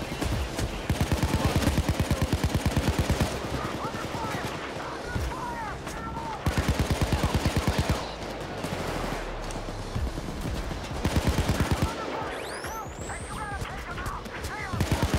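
Automatic gunfire in the heist shooter Payday 2, heard as fast rhythmic bursts of shots, each lasting a second or two, separated by short pauses, loud and close, with game noise and voices beneath.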